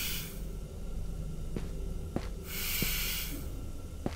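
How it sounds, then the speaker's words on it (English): Steam hisses in a horror video game, a soft breathy rush rising and falling in two long waves, with a few faint clicks and knocks scattered through. "Oh, it's a steam. I thought it was like someone breathing."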